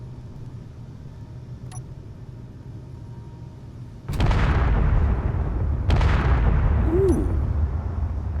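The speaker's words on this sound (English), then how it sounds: "Oh, it's gonna be a big explosion when it actually does explode." Explosions in the video game Space Engineers: after a quiet stretch, a sudden loud blast erupts into a sustained rumbling roar, and a second blast follows, with a brief voiced exclamation over it.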